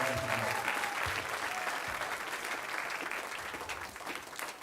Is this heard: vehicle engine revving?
no